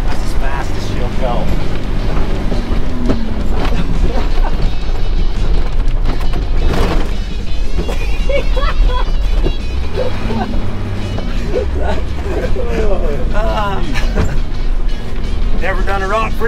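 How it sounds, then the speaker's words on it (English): A tow truck spinning through a Rockford turn, its engine roaring loud and close with tire and body noise, thumps and rattles throughout, while people talk and shout excitedly over it. "Never done a Rockford in a tow truck before"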